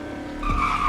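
A car in the Roblox game Greenville, a 4-speed with a top speed near 118 mph, accelerating in a speed test, a close engine hum rising sharply in pitch with a brief tire squeal, alone and without talk.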